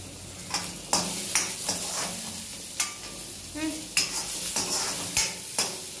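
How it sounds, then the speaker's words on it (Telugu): Dried red chillies frying in a pan, a loud close sizzle punctuated by repeated sharp metallic clinks and scrapes of a spatula stirring at an uneven rhythm. "ఇంకా దీంట్లో నేను ఎండుమిర్చి వేస్తున్నాను."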